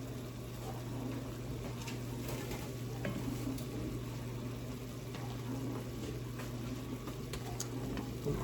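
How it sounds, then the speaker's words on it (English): A pot of water at a rolling boil with watermelon rind and spices added for pickle, a steady bubbling and sizzling hiss with a low hum, continuous and close. "Okay, that is boiling. Then I'm gonna add the spices, a watermelon rind in here."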